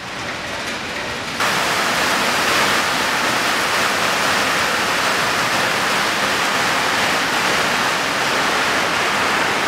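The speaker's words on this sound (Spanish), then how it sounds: "Hoy llueve." Steady, heavy rain falling, a broad hiss that jumps up abruptly after a quieter opening second and then holds evenly and loud to the end.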